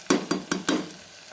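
Mixed winter vegetables fry in a pan with a cumin-seed tempering, turmeric and salt: four quick stirring strokes, each a sharp scrape over a sizzle, then the sizzle fades. No one speaks.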